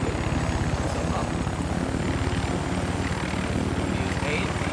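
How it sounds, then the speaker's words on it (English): Helicopter engine running with its rotor spinning in the vehicle game LVS, a steady low rumble with rhythmic rotor chop that holds close and even throughout, with speech tagged as likely. "Turn on the engine, you press on it, the rotor starts spinning"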